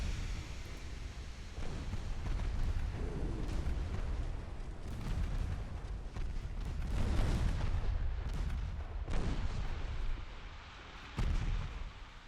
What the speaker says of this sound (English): And ammo detonation on Saigon